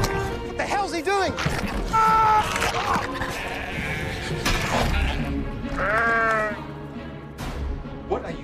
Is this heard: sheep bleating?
yes